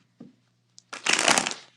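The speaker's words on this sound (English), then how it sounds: "I'm going to shuffle." A deck of playing cards is shuffled up close: a brief soft flick, then a dense, loud riffling burst of cards lasting about half a second before tapering off.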